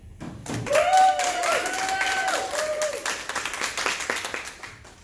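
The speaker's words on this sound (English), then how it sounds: "Let's celebrate with cheering and applauding for David." Children at a church vacation Bible school cheer and clap together, with a rising shout over dense applause that thins into scattered claps as it fades.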